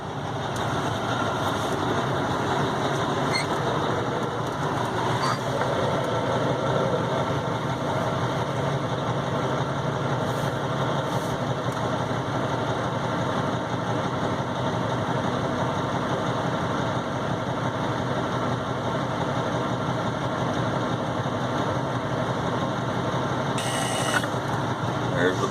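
A truck engine idles steadily on a weigh scale, a constant low rumble and vibration that fills the whole stretch without change, close and loud, with no talking.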